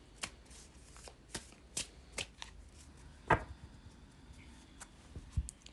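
A tarot card deck being shuffled, a series of crisp papery riffles and slaps spaced irregularly, close and fairly quiet with no talking.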